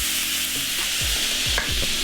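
Food stir-fries in a hot pan, a loud steady sizzle with a few scraping stirs of a utensil against the pan, close and with no voices.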